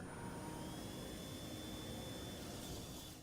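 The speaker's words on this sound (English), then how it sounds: "That isn't the mouse revving its engines, it's spinning up a propeller." A Micromouse maze robot's small suction propeller fan spins up, giving a steady high whine like a tiny jet or vacuum, continuous and faint throughout with no voices.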